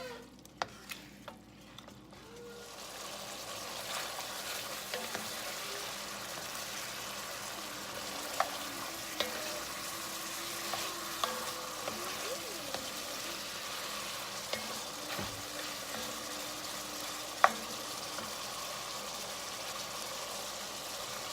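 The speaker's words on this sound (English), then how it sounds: "Now I have all of this browning going on at the bottom of the pan." Chicken browns with seasoning in a frying pan, a steady soft sizzle with occasional light scrapes and clicks running close and alone for the whole stretch after a quiet start.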